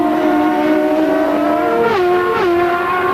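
CART IndyCar race cars at Cleveland in 1995 scream past on track, a loud sustained high-revving engine whine that drops in pitch as the cars shift or pass.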